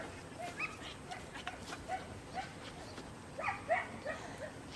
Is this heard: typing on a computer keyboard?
no